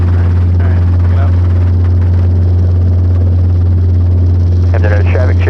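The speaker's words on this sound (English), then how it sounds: "The helicopter is gonna be where it needs to be." A loud, constant low drone of a Robinson R22 helicopter's engine and rotor dominates, with brief muffled talk passing over it near the end.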